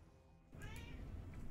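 A kitten meows once, a clear, close, high-pitched cry rising out of quiet room noise, heard alone without talking.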